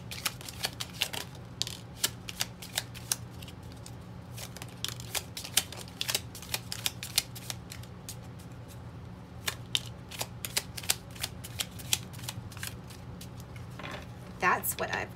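Tarot cards being shuffled and drawn by hand, a steady run of crisp papery flicks and snaps, soft and close, with a voice talking quietly over the shuffling.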